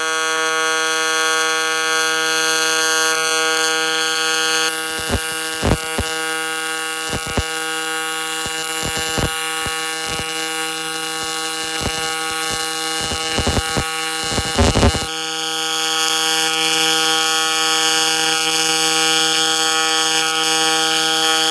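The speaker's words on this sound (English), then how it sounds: "So I'm gonna get it welded and show you again." An Infiniti G37 spindle, cut and shortened for custom camber, is welded. A loud, steady electrical buzz runs throughout, with irregular clusters of sharp crackling bursts in the middle stretch.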